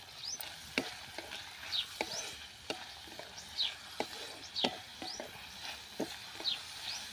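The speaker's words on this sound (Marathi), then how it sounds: "मिरची आहे ती टाकायची आहे, ती परतून घेऊया." Chillies and spring onion greens stirred and sautéed in a hot pan for brinjal bharta, with soft sizzling under repeated scraping and stirring strokes and a few sharp clinks, fairly close and quiet, no talk.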